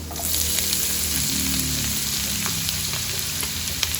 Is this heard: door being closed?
no